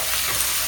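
Tomatoes sauté for fish curry in a pan, putting out a brief, dense, even sizzle that sounds close and steady.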